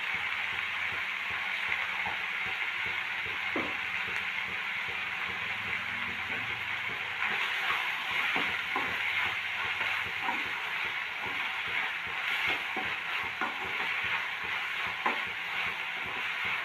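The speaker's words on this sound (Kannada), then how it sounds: "ಇಲ್ಲಿ ನೋಡಿ ಈ ಥರ ಫ್ರೈ ಆಗ್ತಾ ಇದೆ" Onions fry in oil for a hotel-style masala dosa potato filling, giving a steady, even sizzle with occasional light scrapes and clicks of stirring throughout.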